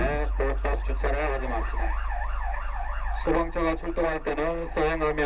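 A loud South Korean fire truck siren wails and yelps up close, sweeping up and down in fast cycles, with a brief stretch of smooth rising-and-falling tone midway.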